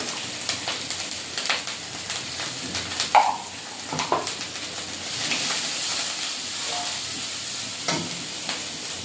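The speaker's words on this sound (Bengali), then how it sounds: "এবারে জিরে আর ধনে বাটাটা দিয়ে দেবো। দিয়ে দেবো লঙ্কার গুঁড়ো, হলুদ গুঁড়ো" Ground cumin and coriander paste with chili and turmeric powders fry in hot oil, a steady close sizzle and hiss with scraping stir strokes throughout, swelling into a fuller sputter partway.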